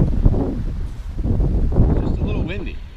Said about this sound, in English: Just a little windy.